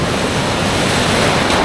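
A strong river current rushes from the mountains toward the sea near a beach in Mariveles, Bataan, during the rainy season. It makes a steady, loud roar of flowing water with wind buffeting the microphone.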